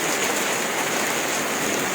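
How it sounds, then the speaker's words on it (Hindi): Steady rain falls outside, making a dense, even hiss that never lets up, with no voices over it. "बारिश का सीज़न तो नहीं है, लेकिन हो रही है बारिश"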